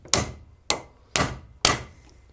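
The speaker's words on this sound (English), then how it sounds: "we got to put one more rivet in" Rivets are hammered into motorcycle brake shoe linings on a Knucklehead, with four sharp, evenly spaced metallic hammer strikes that ring close and loud with no talk.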